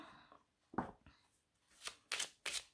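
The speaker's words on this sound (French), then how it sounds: "je vais vous tirer une carte" A card is drawn from the Messages de Lumière oracle deck: soft papery slides and rustles, then a few brisk, louder swishes of cards brushing against each other close by.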